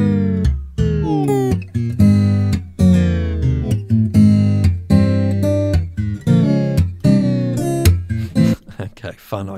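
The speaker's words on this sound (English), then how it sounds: "momentarily slowing it down and letting it speed up by clicking on this wheel that you can see in the middle here" A rich harmonic music track runs through the Tape Mello-Fi plugin and is briefly slowed and then let speed back up, so the pitch sags and recovers in a warbling tape-style bend. The sound stays loud and continuous throughout.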